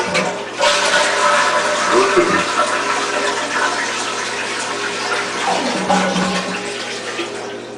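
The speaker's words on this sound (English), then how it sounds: "empty the water out of the basin of the toilet" Water rushes and gurgles loudly as a toilet bowl drains, with swirling sucking sounds that gradually ease off.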